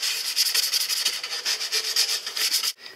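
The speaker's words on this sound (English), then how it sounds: "I'm just going to sand off the edges here that I cut with the miter saw." Sandpaper rubs back and forth over the miter-saw-cut edges of wooden wall cladding in a camper van conversion, making loud, close, rhythmic scratchy strokes that stop abruptly just before the end.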